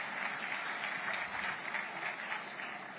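Steady applause from a crowd at a speech by Javier Milei in Argentina, an even wash of clapping held at a moderate level from start to finish, with no voices standing out.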